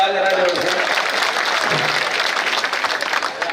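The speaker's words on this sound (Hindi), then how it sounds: "ताली बजाओ जरा जोर से" Crowd clapping at a Hindi political rally for a state president election, with dense, steady applause filling the space and a voice speaking over it.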